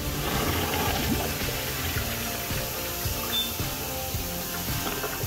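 Steady rushing water running in a men's room urinal, a continuous loud flow without a break, heard close.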